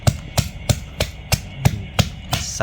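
A pestle pounds a spicy fresh-shrimp salad in a mortar with about eight steady, evenly spaced thuds, close and alone.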